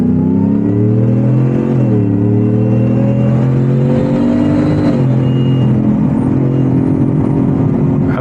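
The 2025 Shelby F-150 Super Snake, a 785 hp supercharged muscle truck, accelerates hard from inside the cab. The engine drone climbs steadily in pitch, dips briefly at a shift, then keeps rising, loud and constant throughout.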